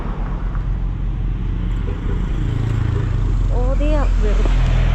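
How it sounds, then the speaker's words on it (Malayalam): A car or similar road vehicle idles and rumbles close by on a roadside in the Philippines, its engine steady and loud throughout as it pulls up and stops, with a voice speaking briefly near the end. "ഒരു വണ്ടി നിർത്തി"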